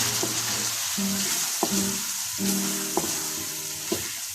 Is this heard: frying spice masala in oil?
yes